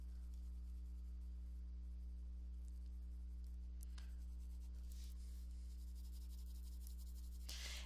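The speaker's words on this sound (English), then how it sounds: "So let's draw around them, or shade around them rather." Pencil shading on paper while drawing a raccoon, a soft continuous scratchy rubbing that runs steadily throughout, faint and close, over a constant low electrical hum with no talking.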